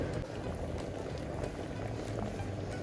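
Water with buckwheat and a teaspoon of olive oil boils in a pot, bubbling and popping steadily and quietly at close range, with no talk over it.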